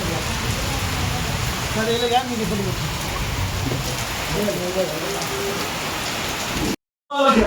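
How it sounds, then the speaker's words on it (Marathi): Heavy monsoon-style rain pours outside in a constant loud hiss and patter on surfaces, with a few faint voices under it before the sound cuts out abruptly near the end. "बाहेर खूप जोरात पाऊस चालू आहे, मुसळधार."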